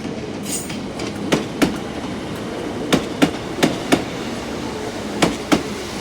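A British Rail Class 152 diesel unit rolls through Exeter St Davids station, its wheels clacking over rail joints in sharp paired beats over a steady rumble, fairly close, with no talking.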